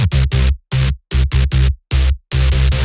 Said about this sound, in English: So the bass, this is our patch called Orange from our Clouds pack